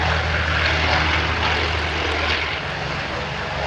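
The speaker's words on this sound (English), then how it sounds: "Our 2800 radial engine sounds like in our F-4U Corsair." A Pratt & Whitney R-2800 radial engine in an F4U Corsair at an airshow drones with a loud, steady propeller roar and deep low rumble, sustained throughout without talk.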